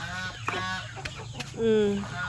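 Chickens clucking out on a farm field, a few short near clucks and squawks followed by a longer drawn-out call, with faint background noise.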